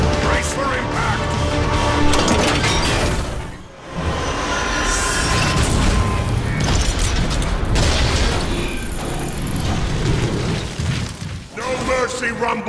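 Heavy crash impacts and booming explosions under heavy fire in a Transformers Bumblebee movie scene, a loud, dense, continuous rumble with one brief dip, metallic screeches and voices mixed in.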